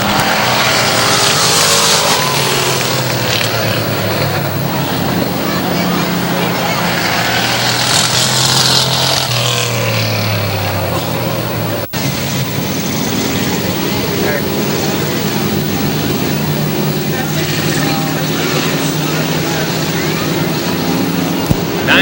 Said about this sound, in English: Cars vying for 4 qualifying spots in this third heat race.